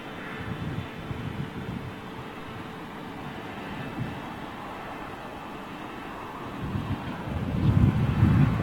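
An Iberia A330 airliner touches down at London Heathrow, heard as a distant, steady roar under wind noise that swells toward the end.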